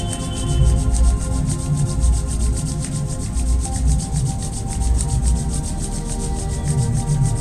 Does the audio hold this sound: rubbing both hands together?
yes